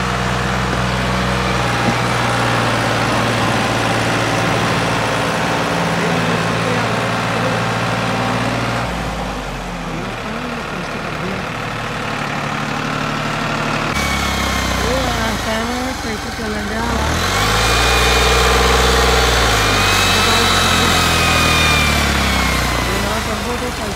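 A New Holland 5500 turbo tractor with a modified diesel pump works a super seeder in the field. Its engine runs continuously and loudly, close by, shifting in pitch and load, while people talk over it.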